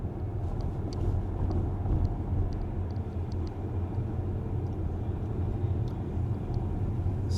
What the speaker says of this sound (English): So this is what it's like driving through Palm Springs at night.